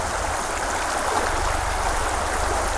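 Floodwater from the Kley river pours across a farm field in Ziro during incessant rain, a steady, dense rushing and splashing wash that stays close and even throughout, with no voices.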